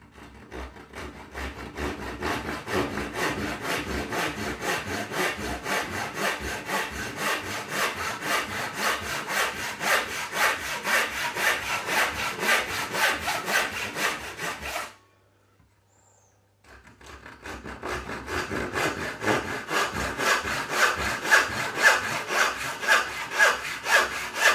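A budget dovetail saw cuts through wood in quick, even back-and-forth rasping strokes, close and clear. The strokes stop for about two seconds, then resume at the same brisk pace.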